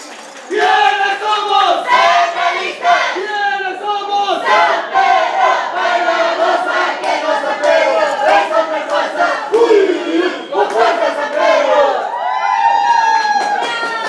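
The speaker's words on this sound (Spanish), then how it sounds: "La señorita Tirsa, fuerte el aplauso." A live studio audience at a Spanish-language magazine show cheers and shouts loudly, with a dense, continuous crowd roar and excited high voices that hold strong throughout.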